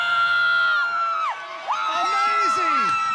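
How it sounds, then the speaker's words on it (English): Children at vacation Bible school shout, scream and cheer loudly together, a dense crowd of young voices with rising whoops rather than distinct clapping. "You've got to scream. You've got to clap. You've got to shout."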